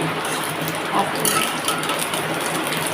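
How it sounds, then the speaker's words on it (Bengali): Heavy rain falling outside, heard from a kitchen where pumpkin fritters are frying, as a steady dense patter filling the whole stretch with no talk over it. "এত বৃষ্টির আওয়াজ হচ্ছে"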